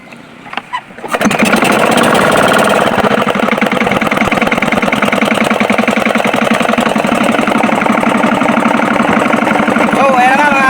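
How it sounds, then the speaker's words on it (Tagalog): A fishing boat's engine on a trip out for swordfish and hairtail starts after a few soft knocks, then runs loud and steady with a dense, even mechanical chug close by, throughout. "nakapagpandara tayo makina"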